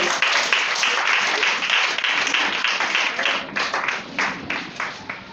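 A church congregation applauding the Lord, with a dense wash of clapping that thins into separate claps toward the end.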